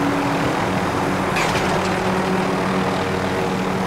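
Helicopter in Call of Duty: Warzone, a steady droning engine and rotor rumble holding at constant loudness throughout, with a brief brighter mechanical rattle partway through.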